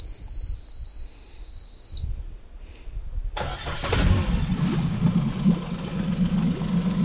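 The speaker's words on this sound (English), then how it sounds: "The engine starts real easy." A four-stroke boat outboard engine cranks and catches after a high steady electronic beep fades, then runs at a smooth, fairly quiet idle with steady low rumble.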